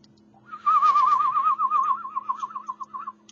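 A person whistles one sustained, warbling tone with a fast vibrato, loud and close, lasting a few seconds over a faint steady hum.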